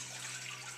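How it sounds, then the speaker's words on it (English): Water pours steadily into a cooking pot on a stove for ramen, a brief continuous splashing rush heard close up with no talk. "We're gonna pour it into the pot."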